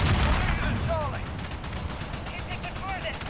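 Gunshots in the Modern Warfare multiplayer beta video game: a rapid series of fairly loud shots runs through the clip, heaviest at the start. Game voices and chatter are heard alongside the firing.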